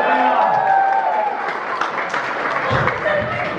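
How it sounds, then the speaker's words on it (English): Seminar audience applause, a dense, steady wash of clapping from a room full of people, with voices talking and calling out over it. "Give them a big round of applause."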